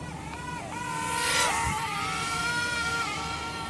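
A Daming DM007 Spy quadcopter whines through the air on a spin, its motor pitch rising and dipping as it maneuvers, steady and moderately loud against faint background noise.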